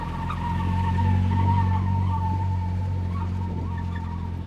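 A daily-driven car with a welded differential scrubs its inner tire through a tight, slow turn, a sustained chirping squeal riding over a low engine drone for several seconds, close and steady.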